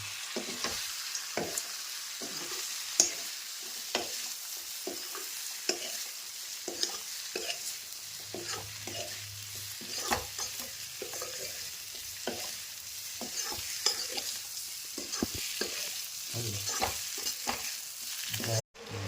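Boiled potatoes and peas fry in a pan with a continuous close sizzle, while a spatula stirs and scrapes in repeated sharp strokes throughout, with no talking.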